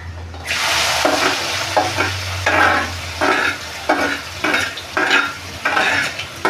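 Onion added to a pan of hot oil with garlic and asafoetida, producing a loud, close sizzle broken by regular rhythmic scrapes of a spatula stirring, with no speech.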